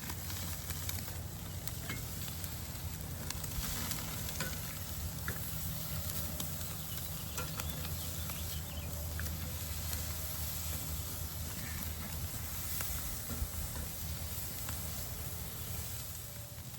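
Steaks sizzle in a hot pan with a steady, dense hiss and fine crackle that holds evenly throughout, no one speaking over it.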